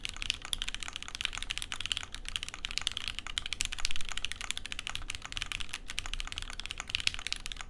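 Steady, rapid typing on an Alice-style mechanical keyboard, with dense, crisp key clacks at close range and no talking.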